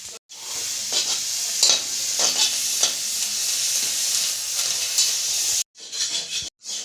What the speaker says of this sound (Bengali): ভাজা ভাজা করে নিচ্ছি